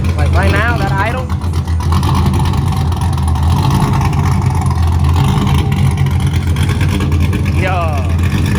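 A Nissan 350Z with a swapped LS V8 idles loudly and steadily at close range, a deep continuous rumble, with brief chirps or squeals near the start and end.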